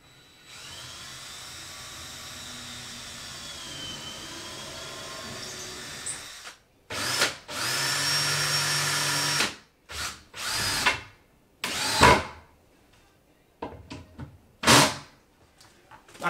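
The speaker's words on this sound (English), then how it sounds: "put a couple of more screws in" Power drill driving screws into the frame of a home-made hydrodipping tank, a steady whine for several seconds followed by a series of short, loud bursts with pauses between them.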